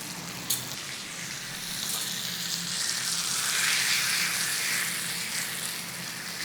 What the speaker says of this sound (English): we're going to hold it there and get that fat rendered into that pan